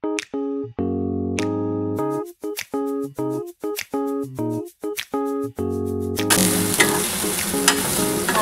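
Ginger, garlic and green chili paste hits a hot pan for fish-head muri ghonto. Plucked tonal music plays first, then a loud, close, steady sizzle of frying takes over for the final two seconds.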